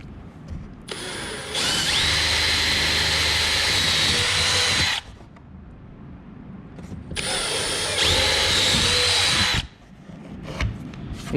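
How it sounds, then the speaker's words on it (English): Power drill running at high speed with a 9/32 bit, boring through a 3/4 inch wooden box for T-nut mounting hardware on a 4Runner, two long, loud whining bursts separated by a brief quiet pause. "So I will now drill with my 9/32 drill bit through the cross marks right here, all the way through the 3/4 inch"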